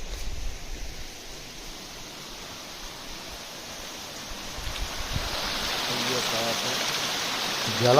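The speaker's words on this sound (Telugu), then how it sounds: "జలపాతం" A waterfall and stream at Sakleshpur, Karnataka, in a rainy setting, giving a steady broadband rush of flowing water that swells louder and fuller over the final seconds.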